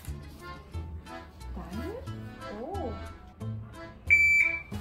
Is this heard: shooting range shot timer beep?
yes